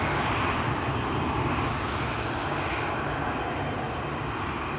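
Transavia jet airliner on approach to runway 18 left at Amsterdam Schiphol, its engines giving a continuous loud rumbling roar that eases slightly as it passes.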